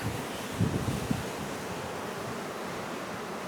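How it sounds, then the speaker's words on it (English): Ocean waves churning behind a Majestic Princess cruise ship, a steady broad wash of surf with wind noise, continuous and fairly soft with no talking. "look at all the waves."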